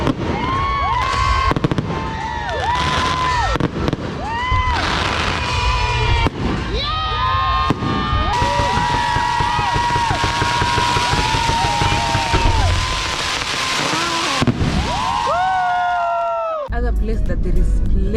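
Fireworks burst and crackle through a night celebration on the Mombasa waterfront in Kenya, with dense repeated bangs and whistles, steady loud crowd noise and children shouting throughout, ending in a final louder burst.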